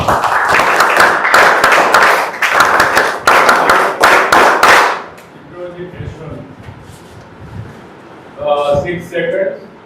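An audience claps loudly for students announced by rank: about five seconds of dense, steady applause, then it cuts off and a voice speaks over quieter background noise.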